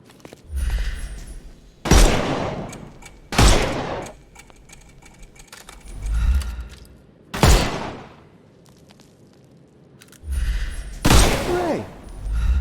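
Gunfire in Sherlock Holmes Chapter One rings out in sharp, loud single shots spaced a second or two apart, each with a deep thump, against a quiet ambient backdrop.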